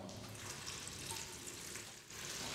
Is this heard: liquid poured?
yes